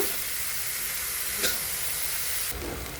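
Bottle gourd peels sizzle loudly and steadily in a hot pan as they are stirred, with a brief scrape partway through, then a lid goes on and the frying hiss shifts and softens.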